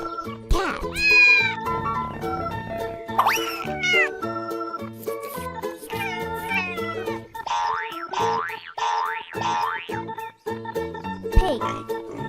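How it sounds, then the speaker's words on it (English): Several cartoonish cat meows, bright and rising, ring out over cheerful children's music with boing-like sound effects, and a voice speaks between them. "Cat."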